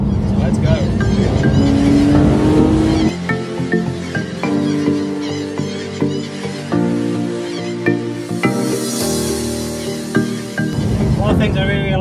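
A Porsche GT3 driving on roads in Wales, its engine droning and accelerating steadily through the clip, with a voice heard over the car noise.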